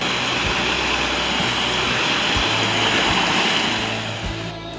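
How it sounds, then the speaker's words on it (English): A massive river rushes steadily as loud, continuous broadband water noise at close range on a solo hike. It fills the whole stretch without a break and eases slightly near the end. "It's a massive river."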